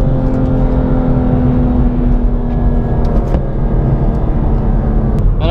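A BMW M2 Competition's engine held at high revs in second gear, a loud, steady, droning roar from inside the car with a slight rise near the end.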